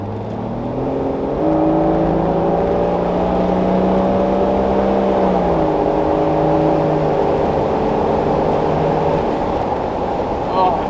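A Range Rover P38 with a swapped BMW M57 turbo diesel driving with the windows down, its engine droning loudly as it accelerates through rising tones, then settles into a steady cruise, with wind rush and a voice talking over it.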